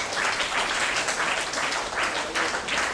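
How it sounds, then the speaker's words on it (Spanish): A church congregation breaks into sustained applause, dense overlapping clapping filling the room evenly with steady, slightly swelling pulses throughout, no voices standing out above it. "Voy a dar un aplauso al Señor."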